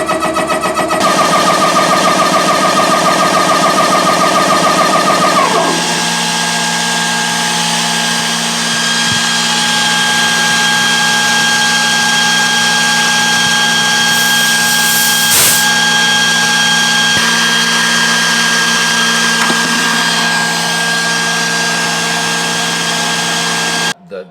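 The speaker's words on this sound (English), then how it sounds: "I'm gonna go ahead and hit the on button here." An Umarex ReadyAir portable PCP air compressor starts up and runs loudly and continuously, its droning motor pitch shifting early on before settling into a steady mechanical whine and hum.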